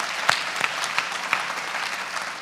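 Audience applause at a charity awards ceremony, a steady patter of clapping with a few sharper hand-claps standing out, moderately loud and fairly close, with no speech over it.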